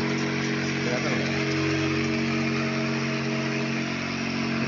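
A battery-powered pesticide sprayer tank, used on a young shallot field, is switched on and runs with a loud, steady, even motor hum close by and no change in pitch.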